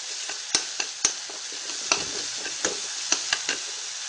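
Tomatoes and garam masala for vegetable biryani fry in a pan with a soft continuous sizzle, broken by a series of sharp clicks and scrapes as a utensil stirs against the metal.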